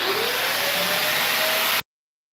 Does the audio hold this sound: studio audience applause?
no